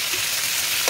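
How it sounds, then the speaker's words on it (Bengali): A ground paste of poppy seeds, raw peanuts and tomato fries in a pan, giving a dense, bright, continuous sizzle at close range with a brief stirring scrape near the end. "মশলাটা কষাবো ভালো করে।"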